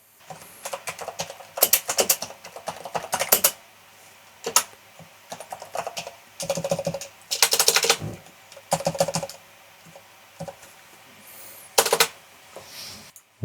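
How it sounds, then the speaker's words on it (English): Close, crisp typing on a computer keyboard during text editing, coming in irregular bursts of rapid clacks with brief pauses between them and a few sharper key strikes standing out. "I'm going to delete this text and I'm going to type in something"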